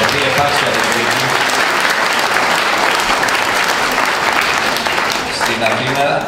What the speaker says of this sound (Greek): να καλωσορίσουμε με ένα δυνατό χειροκρότημα το χορευτικό συγκρότημα